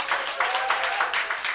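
A church congregation applauds the preacher with brisk, steady clapping that fills the room at moderate loudness for a short stretch.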